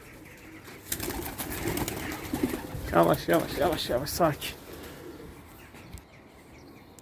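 Coop pigeons coo and flutter nearby, soft rolling calls mixed with wing flaps, while someone speaks quietly in Turkish over them.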